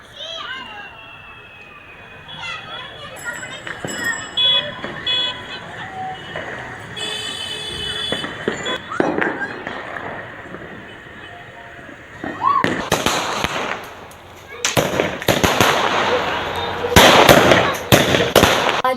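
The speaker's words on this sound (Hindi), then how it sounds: "पटाखे फोड़े जा रहे हैं और आतिशबाजी का सिलसिला जारी है" Diwali firecrackers and fireworks burst in Jammu: sharp cracks and crackling volleys grow denser and louder toward the end, mixed with voices of people and children nearby.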